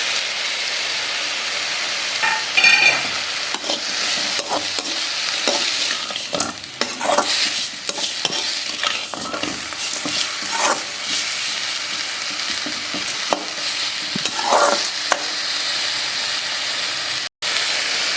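Thuvaiyal ingredients with tamarind and salt sauté in a pan, giving a steady close sizzle broken by repeated scraping stirs, with no talking.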